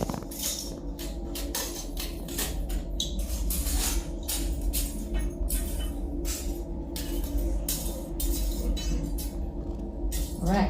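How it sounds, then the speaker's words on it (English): Solidifying lava at a lava show in Iceland crackles and ticks as it cools and contracts, a dense run of sharp glassy clinks and snaps over a steady low rumble, close and continuous. "Cooling and contraction of lava"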